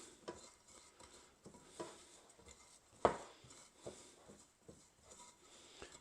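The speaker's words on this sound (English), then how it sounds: "we're just going to mix that together with the breadcrumbs" A utensil stirs Cajun seasoning into dry breadcrumbs in a bowl, making faint, intermittent scraping and clinking strokes with one sharper tap midway and no voices.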